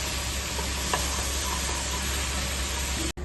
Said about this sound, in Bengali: টানা অবধি আমাদেরকে মাশরুমটা ভাজতে হবে।